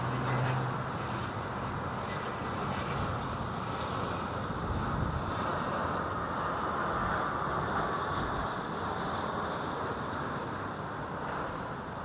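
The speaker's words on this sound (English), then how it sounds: "60-year-old bloke's got goosebumps watching a jumbo jet." A jumbo jet on landing approach at London Heathrow Airport gives a steady, loud, broadband roar that holds for the whole stretch, with wind buffeting the microphone and no talking.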